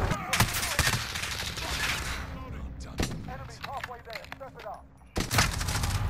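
Call of Duty Modern Warfare Hardpoint match gunfire: sharp, loud shots and short bursts crack over a busy battlefield, with a brief lull in the middle and a heavy burst at the end.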